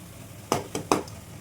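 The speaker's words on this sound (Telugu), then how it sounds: "కారం వేసుకొని కలుపుకోవాలి" Chili powder being stirred into tomato curry in a damaged kadai, three quick scraping clacks of a spoon against the pan over a faint background hiss, close but quiet.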